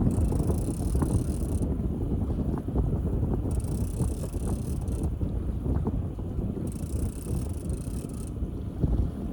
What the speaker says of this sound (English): Still windy though. It is windy.